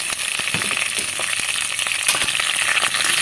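Curry leaves sizzle in hot oil for a Bengali-style idli dish, a loud, dense crackle with scattered sharp pops throughout, close and continuous.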